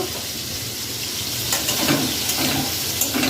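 Prawns frying in a pan over a lowered gas flame give a steady, close sizzle with soft crackles and occasional stirring scrapes, no voices.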